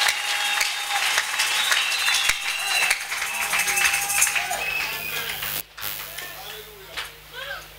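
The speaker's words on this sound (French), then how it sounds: "Acclamons très fort notre Dieu." A church congregation applauds God with sustained, dense clapping and cheering that fills the room, dipping briefly before picking up again in scattered bursts.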